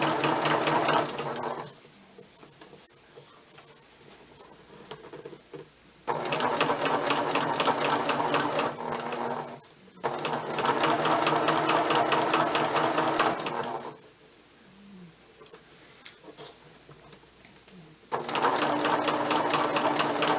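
A sewing machine stitches a shirt hem in three long, even runs of rapid mechanical chatter, separated by quiet pauses while the fabric is adjusted.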